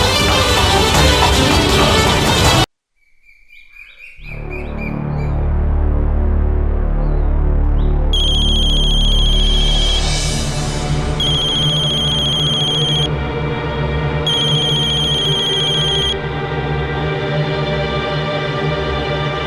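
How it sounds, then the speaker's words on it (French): A mobile phone ringtone chimes in repeated bright bursts, ringing several times in short phrases with pauses between, over a low steady hum after an abrupt cut from a louder passage. "C'est le téléphone de Nandini qui sonne"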